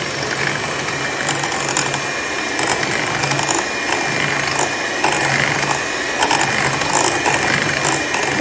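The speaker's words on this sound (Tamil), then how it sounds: "அதை நம்ம ஒவ்வொரு முட்டையை சேர்த்து அடிச்சுக்கலாம்" Electric mixer beating eggs into creamed sugar for a banana walnut cake batter, a loud, continuous whirring with a rattling, ratchet-like texture from the beaters, close up and steady throughout.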